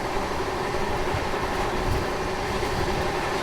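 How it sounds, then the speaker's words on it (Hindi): The Karnataka Express rolls along at high speed, a steady loud rumble of wheels and rattling carriages with a continuous broadband roar and no break. "कर्नाटक एक्सप्रेस ज़बरदस्त रफ्तार में अपने सफ़र में आगे की ओर बढ़ते हुए"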